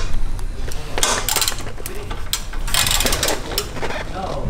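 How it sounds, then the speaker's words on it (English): Hand-tightening bolts while installing lowering springs on a 2018 Honda Civic Si, heard as close, busy metallic clicks and scrapes of fastener and tool handling in a garage, with intermittent bursts over a steady low rumble. "Now you're gonna wanna torque it in by hand."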